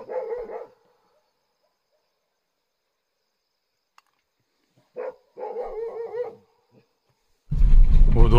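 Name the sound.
dogs barking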